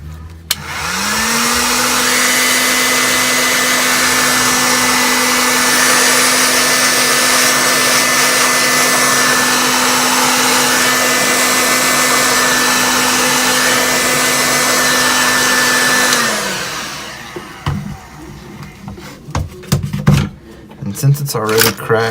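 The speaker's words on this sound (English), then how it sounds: "So you take a heat gun or a hair dryer and you just want to heat this up." A heat gun blows with a loud, steady whirring hiss for about fifteen seconds, heating the cracked back glass of a Samsung Galaxy S7 edge, then switches off, followed by quiet handling and clicking sounds.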